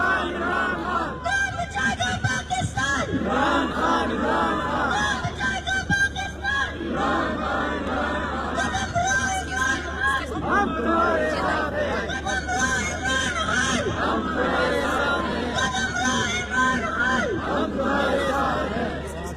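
A protest crowd outside the Pakistan High Commission in London chants slogans, one voice leading and many loud voices answering in rhythmic call-and-response over steady hubbub.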